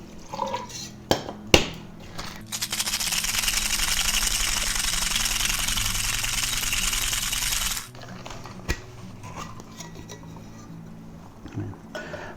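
A Bloody Mary cocktail shaken hard over ice in a shaker, a loud steady rattling burst of about five seconds, framed by clinks and knocks of glassware and pouring before and after.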